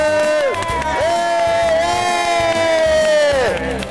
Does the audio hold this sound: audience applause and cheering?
yes